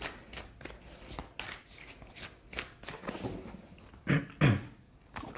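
Tarot cards being shuffled by hand, with a quick series of riffling, slapping bursts that come close together and grow louder toward the end, close up and mostly free of talk.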